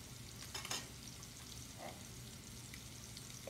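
Scallops and vegetables searing together in a hot pan, with a steady, low sizzle and a few soft clicks and scrapes, heard alone without speech.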